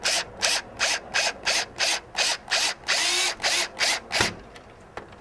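A power drill drives a screw into acrylic in about a dozen short, evenly spaced whirring bursts with one longer stretch near the end, then a few faint clicks as it stops.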